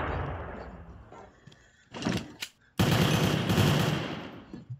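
Gunfire from a guns mod in Minecraft: a low rumbling stretch, then a short sharp burst, then a loud, dense run of rapid shots that carries through to the end.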